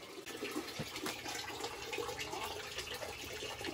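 Water rushes steadily into a cast iron steam boiler as its auto feeder fills it, a continuous hissing flow with no talk.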